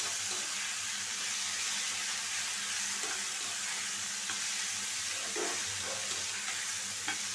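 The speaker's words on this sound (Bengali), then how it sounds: "শাকটা ভাজি করলাম" Greens (shak) frying in a pan over a low gas flame, giving a steady, soft sizzle throughout with a few faint stirring clinks, no talk.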